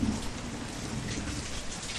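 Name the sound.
steady rain falling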